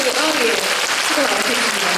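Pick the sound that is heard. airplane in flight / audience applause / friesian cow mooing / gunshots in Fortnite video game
audience applause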